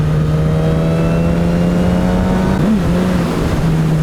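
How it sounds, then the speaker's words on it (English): A 2019 Suzuki GSX-S1000 motorcycle engine drones steadily and loud and close, with a brief dip and recovery in pitch partway through, with no talk. "That exhaust note is very satisfying."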